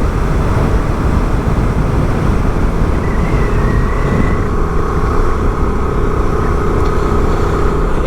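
A Honda Transalp motorcycle engine runs quietly while riding, a steady, continuous drone blended with road and wind noise, with no voices.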